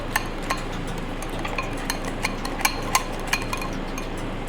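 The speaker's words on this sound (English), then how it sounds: "go ahead and finish whisking this up" Bloomin' onion sauce is whisked in a bowl, making quick, irregular clinks and taps of the whisk against the sides over a soft, steady background.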